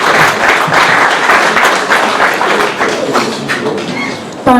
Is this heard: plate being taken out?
no